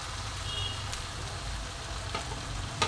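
Spices and onions frying in oil for a Bengali mutton curry, a steady close sizzle with a faint crackle throughout and a brief clink near the end.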